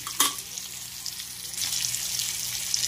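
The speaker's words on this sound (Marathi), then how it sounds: "मीडियम गॅसवर आपण याला फ्राय करणार आहोत।" Coated fish pieces fry on a griddle over medium gas with a steady soft sizzle that grows louder partway through, after a sharp clink near the start.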